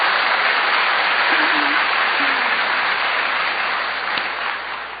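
A large church congregation bursts into applause during a sermon, a loud, thick, continuous roar of clapping that holds steady and eases slightly at the end, with faint voices mixed in.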